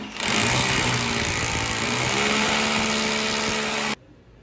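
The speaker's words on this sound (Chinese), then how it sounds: "我打桩之前会先用玻璃钻头先把它开一个小孔，把表面给它打破了，然后我后面就用冲击钻直接冲了" A drill with a glass bit boring a small hole into ceramic floor tile, giving a loud, steady high-pitched whine and grinding for about four seconds before it stops abruptly.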